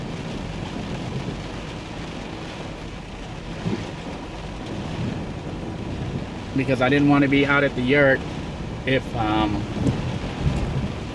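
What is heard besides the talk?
rain and thunderstorm at a bushcraft camp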